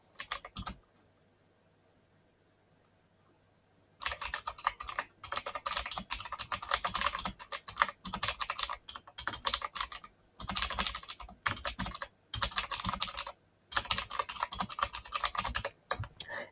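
Steady typing on a computer keyboard, close and crisp: a brief burst of keystrokes, a few seconds of silence, then continuous clattering with short pauses, no voice.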